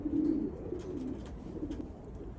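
Racing pigeons in a loft coo steadily and close by, two cock birds trading low, throaty, rolling calls while fighting over a corner.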